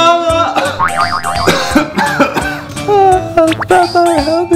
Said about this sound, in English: now you're coughing and lost your voice.